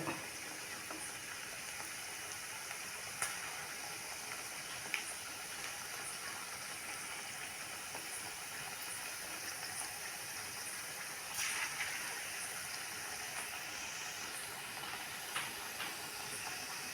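Thattai rice crackers deep-frying in hot oil give a steady, dense bubbling hiss that runs close and even throughout, with a few brief crackles and no talking.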